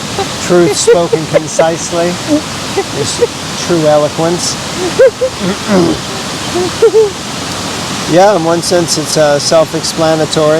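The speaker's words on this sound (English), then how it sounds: "that is the sound of intense flowing water" Intense flowing water close by, a constant static-like rushing hiss that fills the background under a man's steady conversation.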